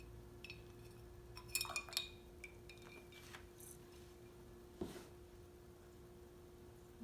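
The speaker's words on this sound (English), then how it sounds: "Let me put 3 ice cubes" Three ice cubes dropped into a glass of hot water make a few faint, close clinks, a short cluster near the start and a single clink later, in an otherwise quiet room.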